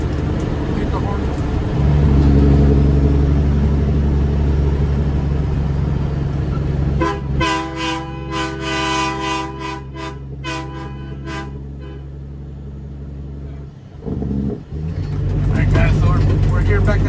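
A Kenworth W900B truck's air horn blasts in a long series of loud, sustained honks over the steady drone of the CAT C13 diesel engine idling at a quarry.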